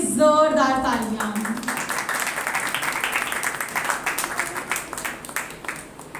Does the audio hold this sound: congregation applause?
yes